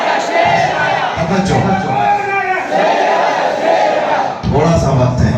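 A crowd at a Milad religious gathering chants slogans together in loud, repeated surges of massed voices, with brief dips between the call-outs.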